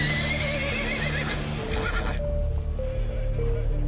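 Horses whinny loudly and repeatedly while hooves clop close by as a rescue team tries to corral them toward a trailer, with the neighing dominating the first half and a fainter whinny after.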